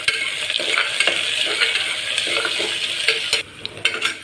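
Onion frying with cumin and mustard seeds for khichdi crackles and sizzles in the pan, with repeated light taps and scrapes of a stirring spoon close by.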